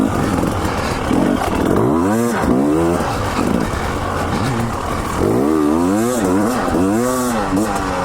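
A 2019 Husqvarna TE300i two-stroke dirt bike rides on rough sandstone terrain, its engine loud and close throughout, with repeated revving and rising and falling pitch sweeps as the throttle opens and closes.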